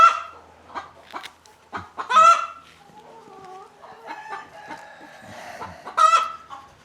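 Hens in a chicken coop cluck and squawk in scattered bursts, close and clear against near silence, with a few louder drawn-out calls among the softer chatter.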